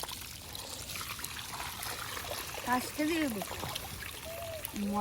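Water is poured into a pan to wash it, a splashing, trickling stream heard close by while people talk over it.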